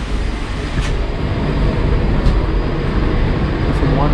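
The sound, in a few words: inside a moving train near Lake Como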